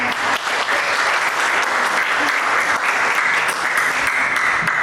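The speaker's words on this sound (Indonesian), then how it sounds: "kita berikan tepuk tangan" Students and teacher in a vocational high school mathematics class applaud the presenting students, a loud, dense, steady clapping from the whole room lasting about five seconds.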